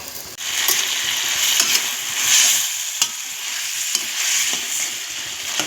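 Spiced rohu (pona) fish with cauliflower and potato being stirred in a pan with a little water, giving a steady close sizzle broken by regular scraping spatula strokes, with no voices.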